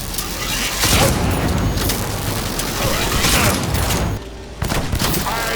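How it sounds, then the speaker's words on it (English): A DB2 Satara charge-up shotgun in a video game fires loud, booming blasts that run almost continuously, dropping out briefly near the end before another burst, with no talk. "The DB2 Satara is an awesome techie charge-up shotgun."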